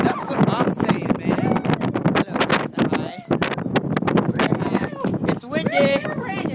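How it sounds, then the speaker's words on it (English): Gusty wind rumbles and buffets the microphone throughout, with people talking loudly and excitedly over it. "It's windy!"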